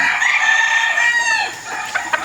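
Roosters and hens crow and cluck at a Filipino gamefarm among stags and pullets, one long crow dominating at close range followed by shorter clucks and calls.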